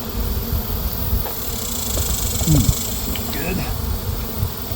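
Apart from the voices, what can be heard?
bees buzzing around neglected hives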